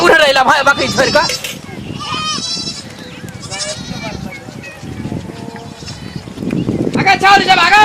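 Goats bleat loudly and repeatedly in a rural village yard, several animals calling in overlapping bursts near the start and again at the end, with people talking between the cries.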